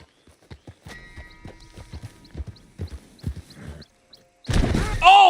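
Horse hooves clip-clopping in Red Dead Redemption 2, irregular hoof strikes at moderate loudness that break off into a sudden loud burst and a brief whinny-like cry at the end, with no talking.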